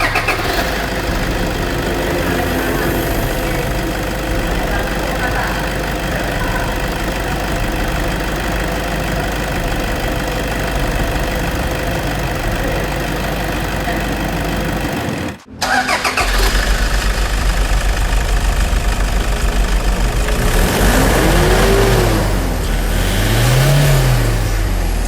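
A Toyota Fortuner with a 2KD diesel engine and a replaced downpipe runs loud and rough. It cuts out briefly, cranks and restarts, then revs up twice in rising, swelling sweeps.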